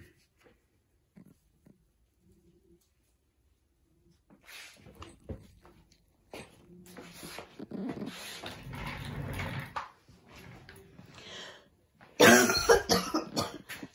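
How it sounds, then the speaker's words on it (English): Person coughing repeatedly, with a few faint sounds early on and then a run of harsh, close coughs and throat-clearing. A louder, sharper burst comes near the end, and some quiet talk is mixed in. "there's no way to avoid my coughing because I have to cough about every few seconds anyway"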